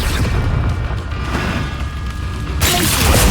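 A Confringo spell blast bursts in the Hogwarts Legacy video game, a dense, loud explosive roar over continuous noisy game ambience that swells sharply near the end.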